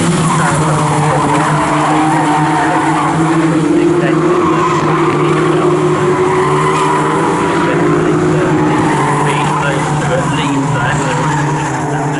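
Locost race cars scream around Snetterton circuit in a continuous loud engine drone with whining, sliding tones as they pass, while a commentator talks over the noise.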